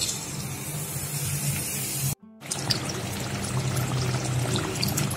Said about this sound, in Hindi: अब हम कढ़ाई में बहुत सारा कुकिंग ऑयल जो है वो गरम कर लेंगे और उसमें इनको डीप फ्राई कर लेंगे।